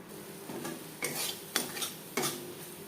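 Fish simmering in tomato curry in a pan on a low flame being stirred with a utensil: three quiet scraping strokes against the pan over a faint sizzle, with no talking.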